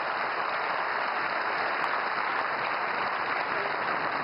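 An audience applauds in a hall, a steady, fairly quiet wash of clapping that holds evenly throughout, with a faint high electronic whine running underneath.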